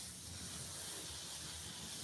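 Steady broadband hiss of steam escaping from a cut hot water pipe, continuous and fairly loud throughout, with a low rumble underneath and no talking.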